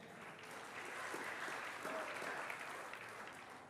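Congregation applause at a church sermon, a steady, moderately quiet wash of clapping that swells slightly midway and holds for the full length, with no talk over it.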